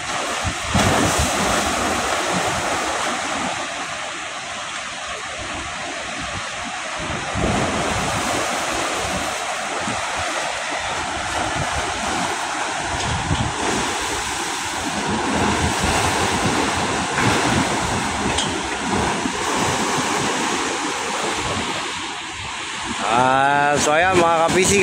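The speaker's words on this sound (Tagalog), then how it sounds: "nadinig mo yung hampas ng alon sa bahay nyo" Loud surf crashes and churns onto the shore of Manila Bay in continuous rolling waves, with wind roaring across the microphone and occasional voices.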